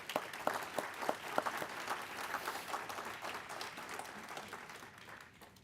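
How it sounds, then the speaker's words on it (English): An awards ceremony audience applauds with steady, moderately distant clapping that swells briefly and then fades toward the end, with no talk over it. "How about a hand of applause?"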